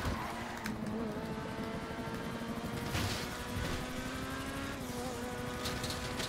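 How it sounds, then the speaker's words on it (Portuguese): A helicopter hovering above a favela street produces a loud, continuous engine drone with sustained harmonic whine and faint rhythmic pulsing, steady from start to finish. "o helicóptero dos caras tá em cima"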